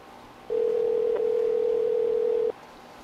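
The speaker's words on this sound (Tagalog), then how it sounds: "tumatawag po si ate" A phone rings with an incoming call: a single steady electronic tone sounds alone for about two seconds, clear and close, then cuts off abruptly.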